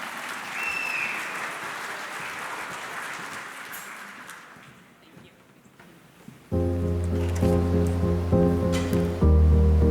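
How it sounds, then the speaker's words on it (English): An audience at an Indigenous prosperity forum applauds, the clapping loud at first and then dying away over several seconds, after which music starts. "Keep the applause going."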